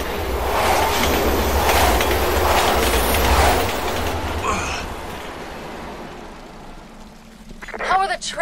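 A subway train rolls through the Resident Evil 6 game world with a loud rumbling clatter of wheels on rails that fades toward the end, and a voice speaks at the close.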